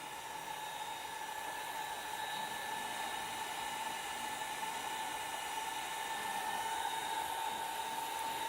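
A hair dryer runs steadily on low heat to dry alcohol ink, a constant close whooshing hum with a tonal whine that holds unbroken throughout.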